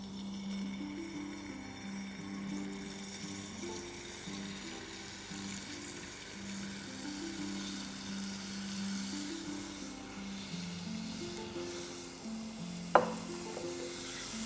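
Kofta meatball pieces frying in olive or corn oil for a meatball and potato soup, a steady soft sizzle throughout under faint background music, with one sharp clack near the end.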